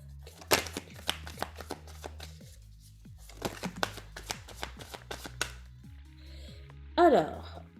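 A deck of oracle cards is shuffled by hand, making a steady run of soft, crisp riffling flicks across several seconds, followed by a brief voice at the end.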